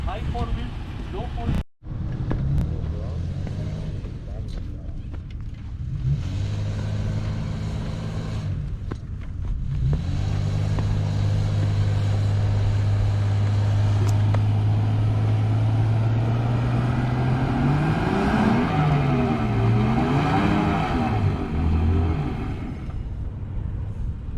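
A Land Cruiser stuck in desert sand revs its engine in a long sustained drone that rises and wavers toward the end, with wind noise and someone talking over it.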